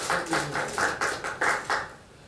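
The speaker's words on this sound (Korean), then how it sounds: "박수가 제일 많이 나오네." Applause at a Korean political party committee's appointment ceremony: a crowd clapping in a run of rhythmic bursts that fade out toward the end, with no talk over it.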